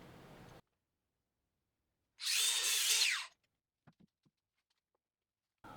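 A miter saw cutting wooden pieces for a gate makes a single loud cut of about a second. It stands alone in quiet, followed by a few faint knocks.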